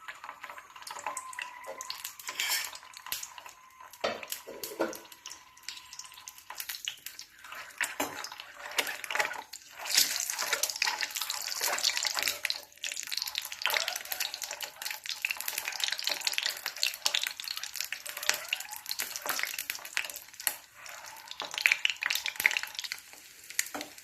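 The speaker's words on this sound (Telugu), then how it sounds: "దీన్ని ఇప్పుడు ఈ ఆయిల్లో వేసి ఫ్రై చేసుకోవాలి" Egg pouches fry in hot oil with a continuous crackling sizzle, rising and falling in intensity over a long stretch, with occasional clinks and stirring scrapes close by.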